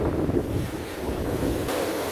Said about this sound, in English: Imagine the size of the waves.